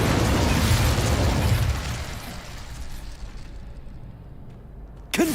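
A fire spell cast in Hogwarts Legacy bursts out as a loud, roaring whoosh of flame that fades into a softer crackling hiss, then a sharp new burst right at the end.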